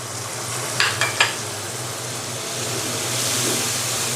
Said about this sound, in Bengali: মশলাটাকে এখন আমি ভালো করে কষে নিব